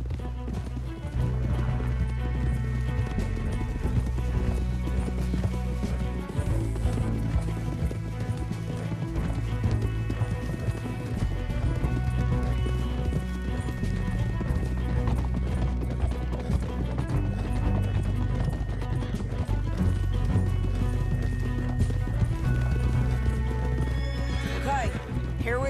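Horses gallop and neigh in the video game Red Dead Redemption 2, a steady rhythmic clip-clop of hooves with whinnies over a continuous loud music and ambient game soundtrack.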